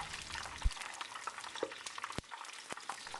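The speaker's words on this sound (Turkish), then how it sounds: "Yağı iyice kızdırdıktan sonra şimdi hemen kabakları kızartmaya başlıyorum." Zucchini frying in hot oil: oil crackles and sizzles steadily with a few sharp pops and clinks, close and fairly quiet, with no talking.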